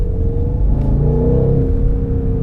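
A BMW M850i xDrive Coupe engine revs steadily with a deep, rumbling roar, close by and continuous, with no voices.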